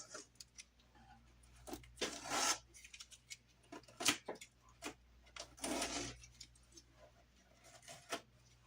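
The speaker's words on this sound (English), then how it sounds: "So I'm going to go ahead and peel the tape off." Painter's tape peels off a freshly painted railing in several separate ripping strips, quiet and close, with pauses between pulls and no speech.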